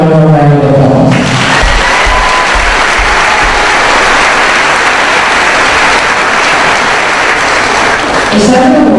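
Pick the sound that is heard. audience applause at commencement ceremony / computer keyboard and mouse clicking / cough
audience applause at commencement ceremony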